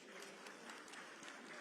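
Crowd applause at a political winners' conference in a large hall, steady dense clapping with scattered sharper claps, heard at a distance and fairly faint.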